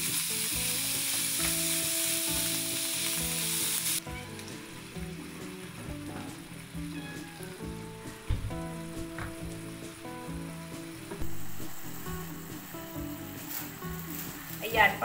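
Ground beef, about 400 grams, frying in a pan for shawarma rice, with a steady sizzle and occasional stirring scrapes that run alongside talk all the way through.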